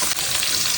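Frozen vegetables fry in a hot pan with a loud, continuous sizzle while being stirred, crackling steadily up close.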